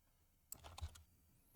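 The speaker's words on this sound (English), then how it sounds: "To go to the next cell, we're going to press the Tab key." A single key press on a computer keyboard while working in a Microsoft Word table, a short clicky tap heard close and alone in a quiet room.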